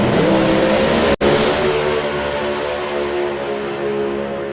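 Doorslammer drag racing car roaring at full throttle down the strip, a loud, sustained engine howl with one abrupt momentary dropout near the start and no shift break after it.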